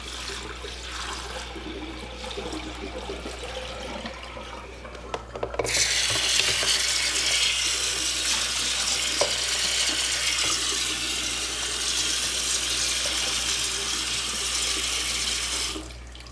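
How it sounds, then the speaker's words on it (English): Water is poured out and equipment rinsed under a running tap at a sink after a partial bed bath, a steady loud rush of flowing water lasting most of the stretch after a quieter start. "Pour our water out and rinse and dry our equipment."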